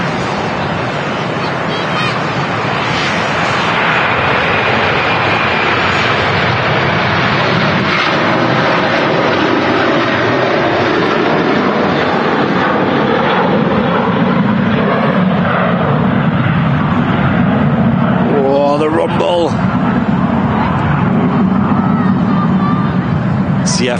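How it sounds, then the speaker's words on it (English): An Aer Lingus Airbus A330 with loud GE CF6 engines passes at Manchester Airport, a sustained, powerful jet roar that swells and rumbles steadily, with a brief whine of another sound near the end. "CF6 engines, they're loud."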